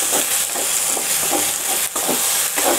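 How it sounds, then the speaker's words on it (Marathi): Chicken pieces fry in a pan for a Marathi chicken rassa, giving a steady close-up sizzle broken by soft scraping stirs, with no voices. "छान रीतीने फ्राय झाले।"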